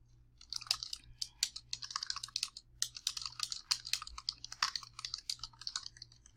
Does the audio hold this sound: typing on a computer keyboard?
yes